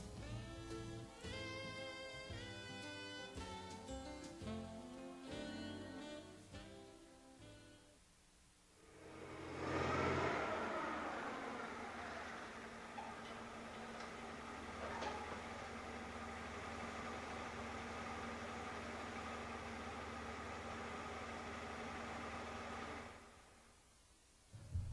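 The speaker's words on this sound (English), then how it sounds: "Never leave a running forklift unattended." A running forklift engine idles with a steady low hum, rising after a few seconds of music and holding at moderate level until it cuts off near the end.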